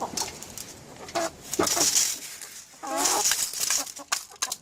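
Chickens, including a Kurk hen, clucking near and clear in a farm garden while being fed tomatoes and other vegetables, in short overlapping bursts with a brief human voice among them.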